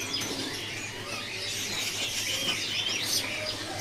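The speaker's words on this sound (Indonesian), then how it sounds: "Ini ada burung pentet matahari mulus." Pentet matahari shrike calling inside a bird shop, with dense high chirping and twittering from several birds going on steadily under a low constant hum.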